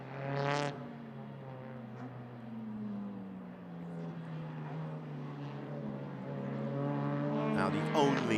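A race car on a fast lap at a Malaysia Championship Series circuit, its engine tone rising and falling through the gears, heard steadily under a commentator's speech and growing louder toward the end.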